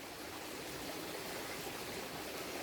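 A river stream flows in a steady, continuous rush of broadband water noise. It is even and moderately loud throughout, with no voices.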